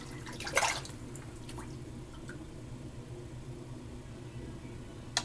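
Water rinses off an Edwin Jagger razor cap under a running tap, with a brief splashy burst early on, a few faint drips and a low steady flow, quiet and close with no talking.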